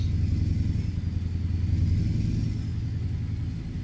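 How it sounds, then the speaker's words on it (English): A Mack truck engine in American Truck Simulator hums with a steady, loud low-pitched drone and rumble while cruising, holding constant without talk. "How's the engine sound, Vince?"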